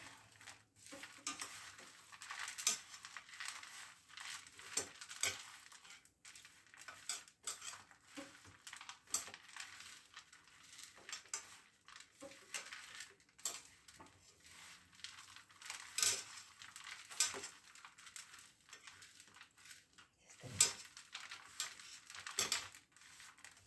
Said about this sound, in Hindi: अब हम इसको ऐसे करके हमें मिक्स कर लेते हैं अच्छे से